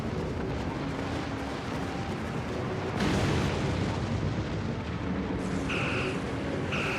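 A Borg assimilator blows up in Star Trek Online, a loud broadband rumbling blast that swells abruptly midway and stays heavy, with brief higher tonal bursts near the end.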